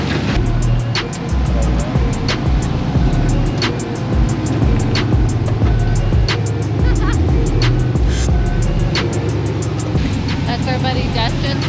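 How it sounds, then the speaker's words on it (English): An off-road rig climbing rocks at King of the Hammers growls with a loud, sustained engine drone and rhythmic clicking and clatter over the rough terrain, with people talking nearby. "That's our buddy Dustin's rig, and he's got his girl driving up it."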